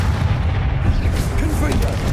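Revelio spell cast in the video game Hogwarts Legacy: a loud, deep rumbling boom that swells and holds for about two seconds, dense and close.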